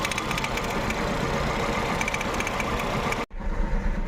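A Volkswagen Vento with a cylinder 1 misfire idles close by, a steady, slightly uneven engine hum that cuts out abruptly near the end before a brief return of sound.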